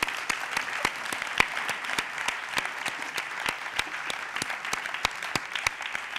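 Audience applause at a literary conversation event, a thin, moderately sparse clapping with distinct individual claps in a steady rhythm, fairly quiet and continuous.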